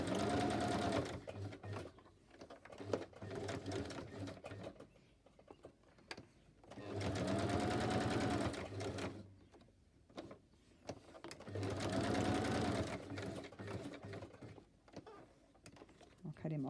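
A sewing machine stitches through old book pages in three bursts of rapid, mechanical whirring, separated by pauses where a person talks quietly.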